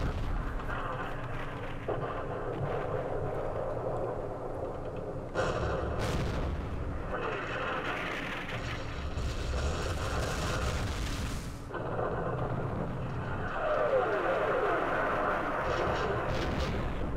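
Airstrike explosions and aircraft rumble in the Vietnam war game Campaign Series Vietnam: a dense, continuous roar of booming blasts and artillery-like thuds, with bursts swelling around the middle and near the end, loud and sustained without talk.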